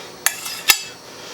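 Garlic canned corn tipped from a pan into a bowl, giving two sharp metallic clanks of pan against bowl in quick succession, close and fairly loud with a brief scrape between.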